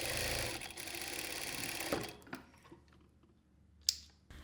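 Sewing machine running a narrow seam close to the edge of sleeve fabric, a steady close whir for about two seconds that stops and leaves quiet clicks and handling sounds.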